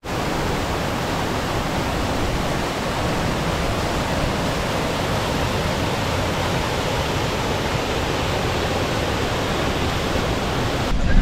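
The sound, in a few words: waterfall falling from Panwadi dam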